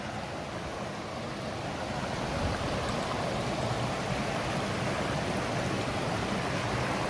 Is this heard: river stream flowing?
yes